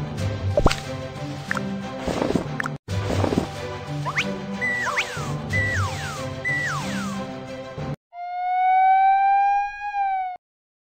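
Cartoon fire truck siren from a children's animation about fire safety, rising and falling tones over busy music and effects, ending in a loud sustained steady wail alone near the end.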